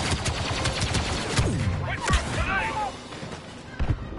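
Gunfire and an explosion from the Star Wars Battlefront 2 beta, a loud, dense barrage of shots with a boom and sweeping sci-fi effects, mixed with an excited voice talking over the action.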